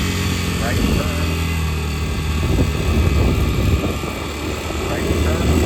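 Kayo MR125 pit bike fitted with a NIBBI PE24 carburetor, its engine droning steadily close by with loud, sustained rumble that swells slightly as the throttle is worked; a voice talks over it.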